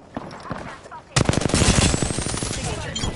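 Gunfire in Apex Legends: after a quieter stretch with scattered shots, a loud rapid automatic burst erupts and rattles on for about two seconds, close and dense.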